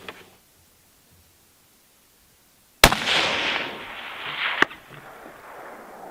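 A .308 rifle fired at a long-range target gives one sharp, loud crack followed by a long rolling echo that fades over a few seconds, with a second faint pop near the end; quiet outdoor stillness comes before it.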